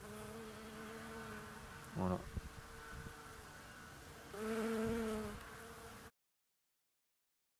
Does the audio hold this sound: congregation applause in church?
no